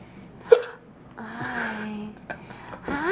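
A single sharp hiccup sounds close by near the start, followed by soft cooing and baby-like vocal sounds from a nearby infant and an adult.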